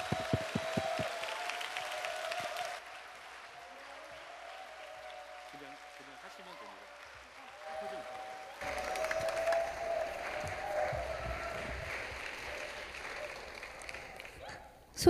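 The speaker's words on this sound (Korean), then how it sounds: "여러분들이 힘차게 박수로 우리 만나의 박수로 맞아주셨으면 좋겠습니다" A church audience applauds to welcome a pastor, a broad steady wash of clapping that swells louder in the second half, with a voice speaking over it early on.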